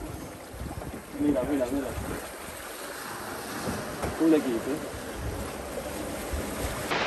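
Ocean waves wash steadily around a sailboat crossing the open Atlantic toward Cape Verde, with wind buffeting the microphone throughout while people talk briefly over the continuous surf.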